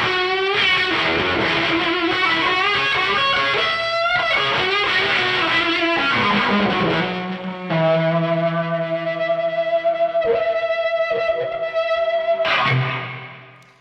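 Electric guitar played through a homemade fuzz pedal built without a feedback resistor, loud and heavily distorted with sustained chords and ringing notes that fade out at the end, with no talking.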